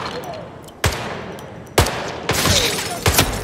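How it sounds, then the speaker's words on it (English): Gunfire in the video game Hitman 3, a few sharp separate shots and a short cluster of cracks over a quiet background, fairly loud and unevenly spaced. "Someone is firing."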